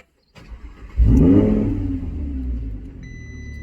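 An Audi R8 supercar engine starts with a brief whir, then flares into a loud, deep rev that settles into a rumbling idle, heard close with no talking.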